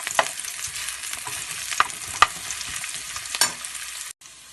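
Onions and sausages fry in a pan as the base for a home-style paella, giving a steady close sizzle with a few sharp utensil scrapes and clicks, and no talk.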